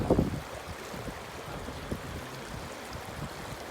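A strong river current rushes past, a constant low watery roar with small splashes and gurgles, preceded by a short louder splash at the start.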